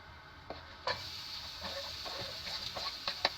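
Garlic and onion dropped into a hot pan for pork sinigang, a quiet background sizzle broken by several distinct clinks and scrapes of a utensil against the pan.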